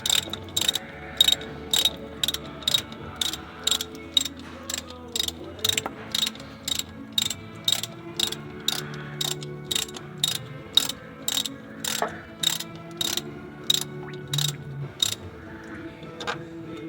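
A ratchet wrench clicks in steady, rhythmic bursts, close and clear, while bolts are backed out of the oil filter housing on a 1997 Ford 7.3 turbo diesel engine, with faint mechanical rattles underneath.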